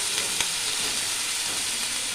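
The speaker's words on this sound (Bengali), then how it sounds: "কড়াইয়ে লাউয়ের চোকলা, আলু, পেঁয়াজ, লঙ্কা আমি একসঙ্গে দিয়ে দিচ্ছি" Bottle gourd peel, potato, onion and chilli frying together in a wok give a steady, even sizzle with a faint crackle, heard up close with no talking.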